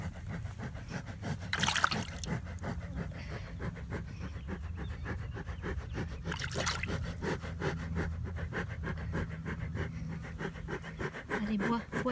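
A heat-stressed cow drinks water up close in heavy, rhythmic panting gulps and slurps that run steadily throughout, with occasional louder splashy bursts.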